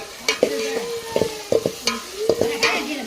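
Green chilies fry in a pan with a constant sizzle while a utensil stirs and scrapes in quick irregular strokes, close and fairly loud, and no talking is heard.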